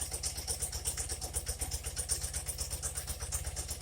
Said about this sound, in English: So let's even these things up as even as we can get them.